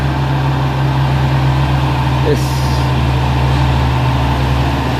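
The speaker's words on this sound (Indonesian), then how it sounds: "ini ada truk Hino dan Fuso coklat ya, bersaing untuk mendahulukan ya" Heavy diesel trucks, a Hino and a brown Fuso, labour up a steep hill, their engines a loud, steady low drone close by with a brief hiss partway through.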